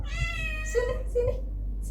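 Pau Pau, a pet cat, gives a single drawn-out meow close by, starting high and sliding down. A voice speaks briefly near the end.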